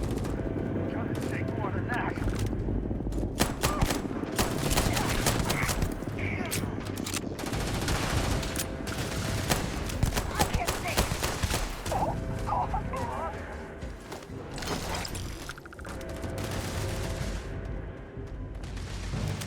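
Dense gunfire from the video game Starfield: rapid overlapping shots and bursts crackle almost continuously for about twenty seconds, loud and busy, with some mechanical whirring underneath.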